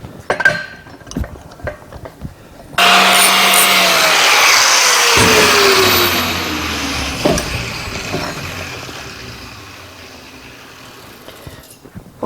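A power tool grinding around the edge of a steel splitting wedge, a loud, steady whining roar that starts abruptly after a few quiet clinks, then eases into a lower, rougher grind as the tool works the metal.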